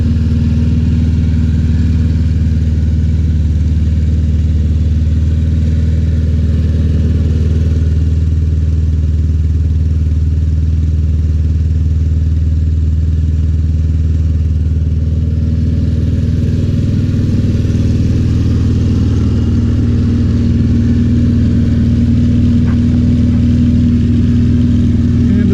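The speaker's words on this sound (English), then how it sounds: "This mower sits a lot and still starts right up." Snapper P217018BV self-propelled walk-behind lawn mower idling after its first cold start of the year, a loud, steady, close engine drone with a constant low hum and no talk.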